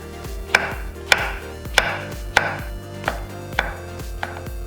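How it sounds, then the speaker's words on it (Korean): A knife cuts through shiitake mushrooms on a board into 1 cm slices in about eight evenly spaced, crisp strokes, close and clear with no talking. "밑둥을 잘라서 1cm 두께로 썰어줬다."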